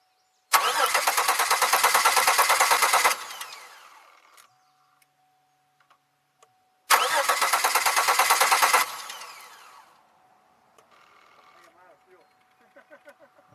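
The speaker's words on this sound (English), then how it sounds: "Let's see if this thing's going to start." A 2002 Chevy Malibu engine cranks in two loud, close bursts with a pause between, the second catching; a low idle or fuel pump hum and faint clicks follow.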